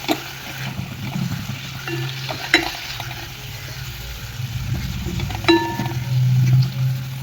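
Besan methi pitla, gram flour with fenugreek leaves, sizzles softly in a pan while a spatula stirs and scrapes it, with occasional metallic clinks and taps against the pan throughout.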